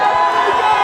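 A dense crowd roars and cheers during a tense tie-break at a tennis match, loud and close in a short steady burst of massed voices.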